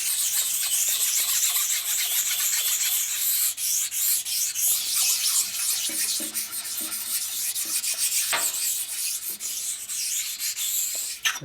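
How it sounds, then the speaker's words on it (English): A honing stone rubs rust spots off the steel cylinder of a 1992 Harley-Davidson 80ci Evolution engine during a rebuild, making loud, continuous rasping strokes with occasional squeaks, close up and without talk. "the honing stone will take this down to"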